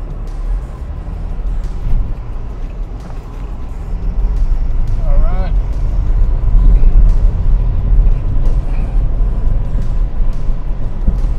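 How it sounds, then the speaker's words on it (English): Heavy road traffic on the Lekki Epe Expressway in Lagos, a dense continuous rumble of cars and buses that swells louder midway, heard from inside a moving vehicle. "So there's a lot of traffic here."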